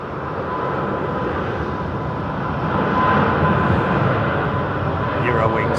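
A Eurowings airliner going around at London Heathrow produces a sustained broad jet roar that swells slightly louder partway through, heard from a distance in the open air.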